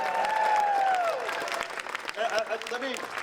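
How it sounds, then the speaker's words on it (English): A rally audience bursts into applause, a dense wash of clapping with a bright whistle early on, then thinning into scattered claps and crowd noise. "Let's give her a big round of applause."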